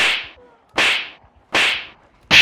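Four sharp, loud slaps on zombies in the video game Project Zomboid land roughly every three-quarters of a second, each a crisp smack with a short hissing tail, nothing else between.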